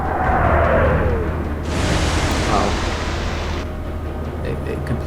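A warship fires high-explosive shells in the naval video game Atlantic Fleet. A deep, rumbling blast swells into a sustained roar of smoke and noise that fades out over several seconds.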